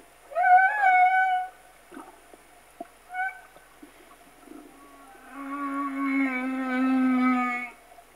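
Male humpback whale singing underwater while lying still nose down: a few rising, wavering moans and tonal calls, a short pause with faint clicks, then a long sustained groaning note, clear and close with no voices.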